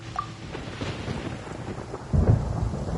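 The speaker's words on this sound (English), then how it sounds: "Paimon hears thunder!" Thunder in the game Genshin Impact, a low rolling rumble over steady rain that swells into a louder, deeper crack near the end, with no voices.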